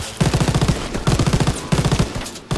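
Machine gun fire in a Call of Duty WW2 battle, three loud close bursts of rapid shots with short gaps between them.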